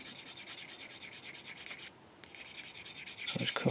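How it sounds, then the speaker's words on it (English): Firm sanding stick rubbed on a part from a Takom Chieftain Mk.10 plastic model kit, close, quiet rhythmic scraping strokes with a brief pause, growing a little louder at the end. "if we use the firmer sanding sticks, like this style, what you'll tend to do is you'll flat spot that area there"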